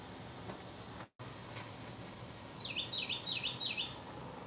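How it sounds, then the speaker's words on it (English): A small bird sings a brief series of quick, high chirps over a steady background hiss, fairly faint and distant. "I hear the birds."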